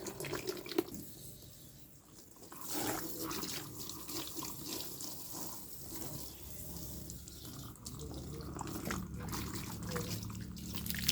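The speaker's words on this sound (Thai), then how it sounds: "จะราดน้ำให้หน่อย" Water pours and splashes steadily over a muddy stray dog during an outdoor bath, a continuous running, trickling wash that swells and eases over several seconds with no talking.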